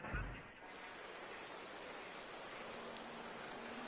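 Rain falling in a GT3 racing video game, a steady, even hiss of raindrops continuing throughout at moderate level, with no voices over it.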